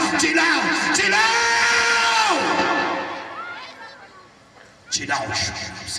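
A prayer congregation shouts together in a loud, sustained mass of yelling voices that fades toward the end, then bursts out again with fresh shouting.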